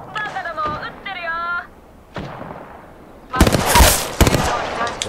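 Gunfire in Apex Legends, a loud rapid burst of automatic shots in the second half, after game voice lines and tonal interface sounds, with speech heard throughout.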